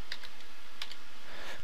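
Quick keystrokes on a computer keyboard, a short burst of light clicks as a command is typed, up close and without talk.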